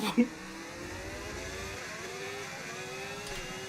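A Mercedes Formula 1 car engine whines in the racing video game F1 25, a steady high-pitched drone holding and slowly shifting pitch, starting after a short thump and running throughout with no clear talking.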